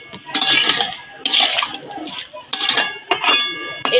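A spoon scrapes and clinks against a pot while radish curry with turmeric and salt is stirred, bursts of metallic stirring sounds coming in irregular strokes, close and fairly loud.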